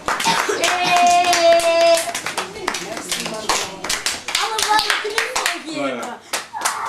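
Children and adults at a singing school clap their hands, close and lively applause with uneven rhythm, mixed with children's voices and bits of talk.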